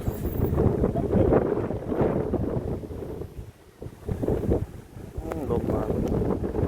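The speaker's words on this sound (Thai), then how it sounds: "ลมมา" Strong dry-season storm wind sweeping into Vientiane, Laos, roars and buffets close against the microphone in continuous gusts, with voices mixed into the noise.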